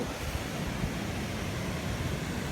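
A steady, broad roar of rushing water from Tat Chanan Waterfall in Seka, Bueng Kan, Thailand fills the scene, constant and loud with no pauses or voices.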